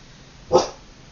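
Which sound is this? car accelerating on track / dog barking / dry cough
dog barking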